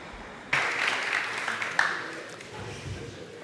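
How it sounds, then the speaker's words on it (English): Conference audience at a motorcycle road safety event applauding a speaker, a moderate burst of clapping rising suddenly and continuing steadily across the room. "A big round of applause for Jonas Jansson."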